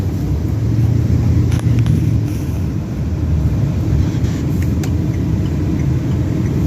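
An LS-swapped car drives along with a steady low engine rumble and road noise filling the cabin, continuous and fairly loud, with no one talking.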